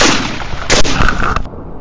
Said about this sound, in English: A rapid burst of gunfire erupted.